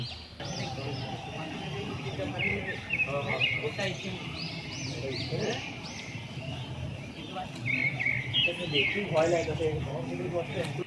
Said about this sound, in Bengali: এখানে কোনো কোলাহল নেই কোনো হট্টগোল নেই শুধু শান্তি আর পাখিদের আওয়াজ